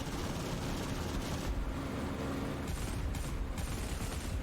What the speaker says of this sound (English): Firing off some machine guns here.